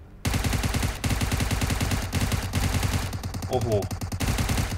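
Automatic gunfire in PUBG Mobile, loud and close, with rapid rhythmic bursts of shots repeating through the whole stretch while a player exclaims over it.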